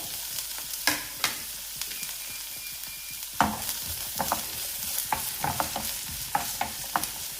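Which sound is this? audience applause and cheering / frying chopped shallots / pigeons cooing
frying chopped shallots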